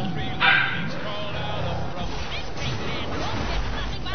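A pet dog barks and yips once, a short sharp burst near the start, while people talk over a steady background.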